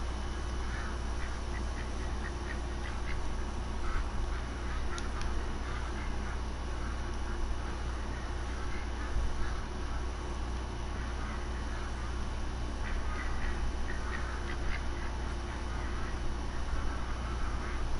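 Ducks quacking in the Call of the Wild hunting game: scattered quacks and calls repeat irregularly over a steady outdoor ambience, fairly distant, with no talking.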